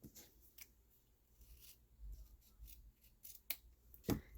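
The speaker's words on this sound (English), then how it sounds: "So I'm gonna cut enough to make" Scissors cutting ribbon for a bow: a few quiet snips spread out, with one sharp closing snip near the end. They sound close and faint against a quiet room, with no speech.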